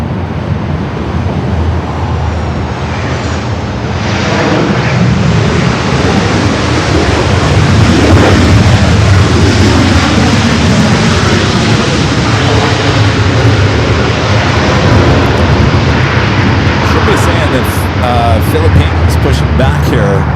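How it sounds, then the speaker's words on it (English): EVA Air heavy jet departing runway 24 left at Los Angeles airport, a broad loud engine roar building steadily and sustained, with wind noise on the microphone and a voice talking over it. "That's the second heavy departure coming up on the 24 left."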